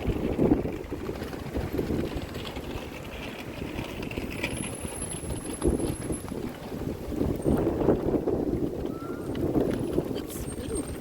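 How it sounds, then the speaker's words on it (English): Gusty wind rumbles across the microphone at Elizabeth Quay in Perth on a hot day, a continuous low buffeting with surges, plus faint background activity. "It's windy."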